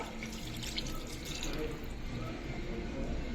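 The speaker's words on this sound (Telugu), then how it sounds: "గ్లాస్ వాటర్ అయితే తీసుకున్నాను దీన్నైతే ఇందులో యాడ్ చేస్తాను" A glass of water is poured into a bowl of chicken for dum biryani, giving a steady, close splashing and gurgling stream that fills the whole moment without pause.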